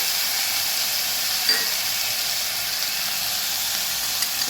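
Schezwan chutney sizzles in a hot pan, a steady bright frying hiss that fills the whole stretch at close range with a couple of tiny spits and no talking.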